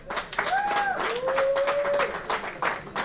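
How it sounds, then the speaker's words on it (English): Audience applause for the referee at the 2020 GAMA Executive Superfight Scrimmage, a fairly steady patter of clapping with whistle-like tones and faint voices mixed in over three seconds. "Big round of applause for our ref as well."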